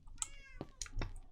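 A cat in the Minecraft video game gives a short, high, tonal meow, followed by a few quick soft clicks like typing on a keyboard, all fairly quiet.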